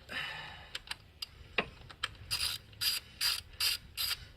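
A ratchet with a socket and extension working a spark plug on a 2015 Lancaster Evo X GSR engine: a few scattered clicks, then a run of about six rhythmic, sharp ratcheting bursts, close and loud.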